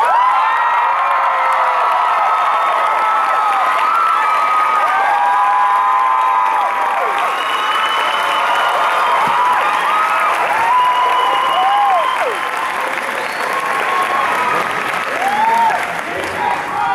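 A convention crowd at a Middle-earth panel claps and cheers for actor Billy Boyd, with sustained loud applause, whoops and high shouts rolling on throughout.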